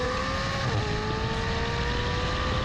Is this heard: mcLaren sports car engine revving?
yes